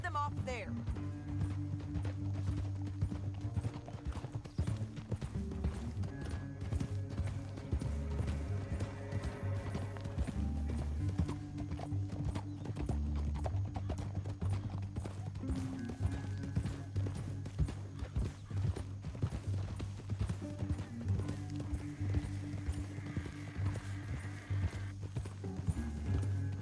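Horse hooves gallop in a steady clip-clop rhythm across open ground in Red Dead Redemption 2, mixed with a brief whinny, game music and characters talking over it throughout.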